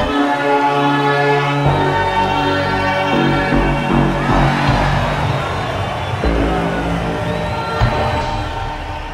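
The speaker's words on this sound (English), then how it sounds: "And there's the bell." At the start of a wrestling match, a bell rings with sustained metallic tones over crowd noise in an arena, the ringing loud and close and repeated a few times.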